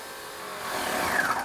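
A paint sprayer machine spinning up, its airy whine rising and growing louder over about a second, with a thin high tone near the end; no talk.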